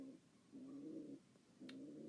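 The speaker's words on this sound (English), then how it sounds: "that noise in the background, that is Pedro, the tame pigeon I just mentioned." Tame pigeon cooing indoors, faint soft low coos repeating in three phrases across the stretch, with a tiny click near the end and no voices.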